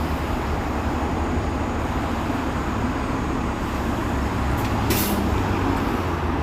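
A city bus pulling out on Lawrence West in Toronto: heavy, steady engine rumble and traffic noise, with a short sharp hiss of air brakes releasing near the end, close and loud.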